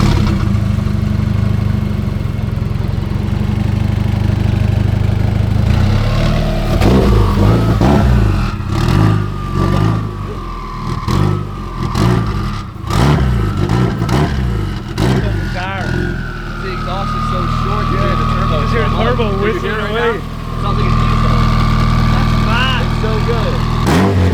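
Car fitted with a Honda K-series engine idling after start-up, a steady low rumble that spools and surges, with people talking over it nearby.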